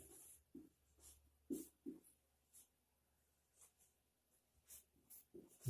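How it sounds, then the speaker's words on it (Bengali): Handwriting on a board comes through as short, faint scratchy strokes separated by pauses, each stroke a brief soft rasp in a quiet room. "আমি এখানে একটু টেনে লিখছি"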